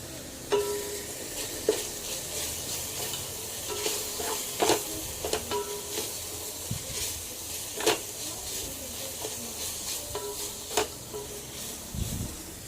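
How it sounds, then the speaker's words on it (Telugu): Masala paste stirred into a mutton biryani base in a pan: a low, steady sizzle under repeated spatula scrapes and clinks against the pan at an irregular pace, close-up and with no one talking. "పేస్ట్ చేసి పెట్టుకున్న మసాలాని ఇందులో వేసుకొని కలుపుకోవాలి"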